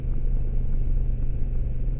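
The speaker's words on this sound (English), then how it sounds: "It's got a nice sound to it. It is a 2-cylinder parallel twin." A 2026 Honda NT1100 DCT with its 2-cylinder parallel twin engine rumbles steadily up close, giving a low, even drone with no change in pitch over two seconds.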